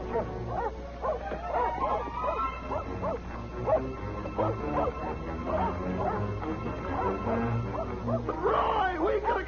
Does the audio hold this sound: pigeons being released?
no